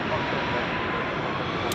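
A parked CRJ regional jet idling on a de-icing pad at Chicago O'Hare in winter, its engines giving a loud, steady broadband roar that holds unbroken throughout.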